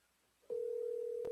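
A ringback tone sounds through a Verizon cell phone during an outgoing call, a steady, pure tone that starts abruptly after near-silence and holds at an even level, with a small click near the end.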